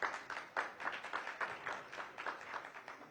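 An audience claps to welcome Bihar's deputy chief minister on a televised news programme, a faint, even patter of many hands that keeps going steadily.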